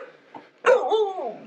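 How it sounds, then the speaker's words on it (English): A dog on a Bangkok canal-side street gives a single loud, close bark that trails into a whining yelp, following a brief quieter huff. "Oh, cute dog."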